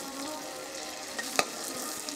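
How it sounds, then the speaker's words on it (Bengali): Paneer pieces frying in hot oil give a soft, steady sizzle with a brief sharp crackle or clink near the middle, low in level and with no talking. "এবার বাকিগুলোকেও আমি এই একইভাবে ভেজে নেব।"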